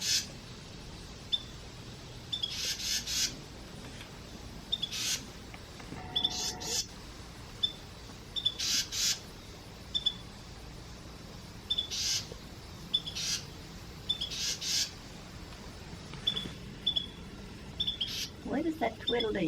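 House wrens feeding hatchlings outdoors: scattered short high chirps and twittering come in repeated brief bursts throughout, soft and somewhat distant, under steady background noise.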